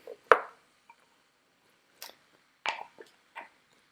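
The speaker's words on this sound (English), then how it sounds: "And we're just going to stir it up." Beans and potatoes being stirred in a pot, a handful of brief, soft squishing and clicking spoon strokes separated by pauses, close and quiet, without speech.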